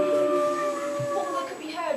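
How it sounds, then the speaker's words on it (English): Foxes howling in a dark, windy forest as a story sound effect, long wavering howls over a steady wash of wind-like noise. "All that could be heard was owls screeching and foxes howling."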